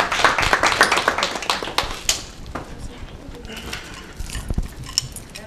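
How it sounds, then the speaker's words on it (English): An audience applauds a woman as she comes up to present at a foundation event celebrating women and their families, brisk clapping that swells at first and then thins, with some talk running underneath. "A round of applause for her."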